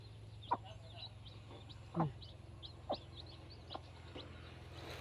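Hens give short, scattered clucks at uneven intervals over a low steady hum, fairly faint and close by.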